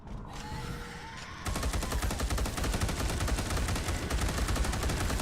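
Rapid automatic gunfire in a video game bursts in after a brief quieter moment, then rattles on loudly and steadily without letup.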